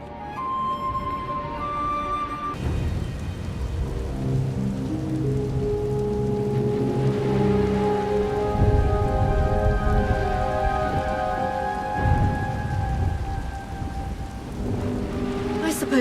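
A storm in the video game SWTOR brings steady heavy rain and rolling thunder, with low rumbles swelling and fading for the full span under sustained tonal game music and ambience.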